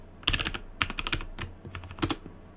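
Password entry on a computer keyboard: a few short bursts of close, clicky keystrokes in quick irregular clusters, with brief pauses between them and no speech.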